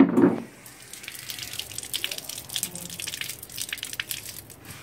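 Running tap water pours over a boiled egg being washed in a sink, a steady faint splash and trickle with a brief louder burst at the start.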